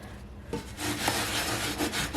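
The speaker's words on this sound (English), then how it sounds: "that would be scrubbing it, and with salt" An old cast iron skillet being scrubbed with coarse salt and a dishcloth, a steady close abrasive rubbing that starts after a brief pause and continues without talk.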